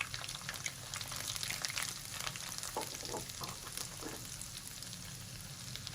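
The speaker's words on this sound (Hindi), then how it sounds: "और हल्की आंच पे भूनेंगे, ज़्यादा तेज़ आंच पे नहीं भूनेंगे।" Semolina roasts in a pan over low heat as a spoon stirs it, giving a soft, continuous sizzle with faint scraping and stirring sounds. The sound is quiet and close, with no talking.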